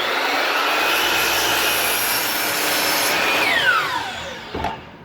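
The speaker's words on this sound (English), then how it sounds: "When you make cuts on the miter saw, sometimes you try to line it up and get it right on the line, and you just make a cut." A miter saw cuts wood for a raised garden bed, a loud sustained high whine of the blade that winds down in pitch near the end, followed by a brief knock.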